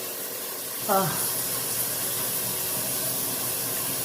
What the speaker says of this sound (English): I'm going to take a shower. Here it is running.